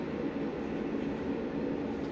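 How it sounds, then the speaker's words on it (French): A passing freight train gives off a steady, continuous rumble and rolling drone. The sound stays fairly even throughout, with no voices over it. "Surtout c'est les trains de marchandises"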